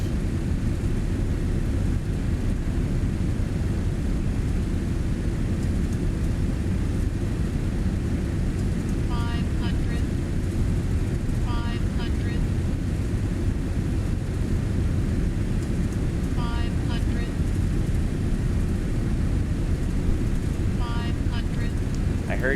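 Jet engines of an MD-11 airliner in a flight simulator drone as a loud, continuous low rumble and roar, with faint intermittent chirps layered over it.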